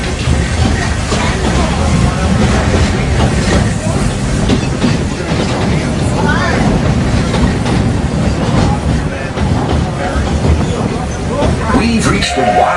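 The Walt Disney World Railroad steam train rolls steadily through the Magic Kingdom, with continuous loud rumbling, rhythmic wheel clatter and mechanical noise throughout, heard from aboard.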